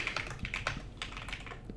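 Fingers type on a computer keyboard in short bursts of quick, close clicking keystrokes, with brief pauses between runs.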